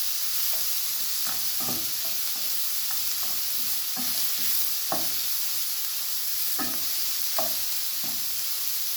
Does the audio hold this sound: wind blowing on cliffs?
no